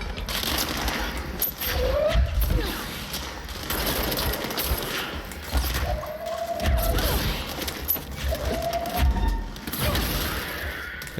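Enemy gunfire from the flank in the Control video game, sustained and loud, crackling bursts layered with thuds and crashes that run throughout, with brief tonal game sounds rising above the clatter.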